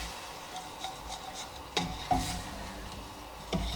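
A paddle stirs tomato sauce in a pot, giving quiet, soft rubbing and scraping with a few sharp knocks against the pan.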